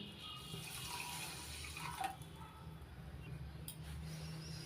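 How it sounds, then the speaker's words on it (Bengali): Water pours into a pan of sugar, a soft continuous trickling splash heard quietly and close, with no voices. "এবার ওই বাটিরই মাপের এক বাটি জল দিয়ে দিচ্ছি"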